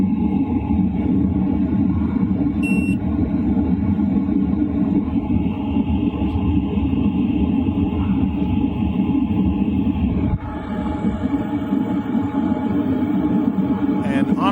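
LF Bros diesel heater stepped up to 2.5 kilowatts, a continuous close roar and low rumble with a brief high beep early on and a slight shift in tone partway through, otherwise unchanging.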